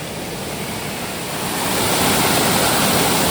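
A small stream's water rushes and gurgles in a broad, steady wash, swelling louder partway through.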